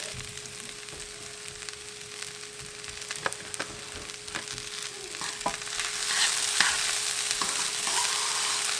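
Fried rice sizzles steadily in a wok while a utensil scrapes and taps in irregular stirs, close and moderately loud, the frying hiss swelling toward the end.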